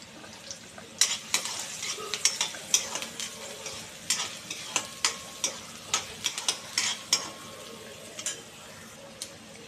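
Chopped onion being sautéed in hot oil with cumin and mustard seeds, a steady sizzle under a string of distinct spatula clacks and scrapes against the pan at an uneven rhythm; no talking.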